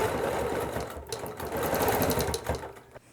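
A sewing machine quilting a small quilt runs in a fast, steady mechanical chatter, close and continuous, with a brief pause near the end.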